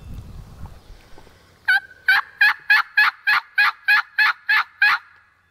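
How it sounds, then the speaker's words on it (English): A wild turkey on public land gobbles loudly in a quick rhythmic string of about ten sharp notes, fairly close and clear over faint outdoor background. "Let's get him to gobble one more time."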